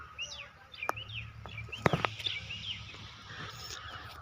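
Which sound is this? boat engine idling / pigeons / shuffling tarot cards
pigeons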